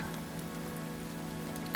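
Rain falls steadily on a surface, a dense, even patter of raindrops forming a constant hiss with no voices, quiet and uniform across the stretch.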